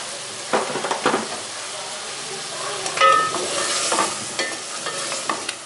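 Chicken with spices, turmeric and salt for a degi-style palak chicken is roasted in a pot, with intermittent scraping stir strokes over a soft, quiet sizzle and no talking.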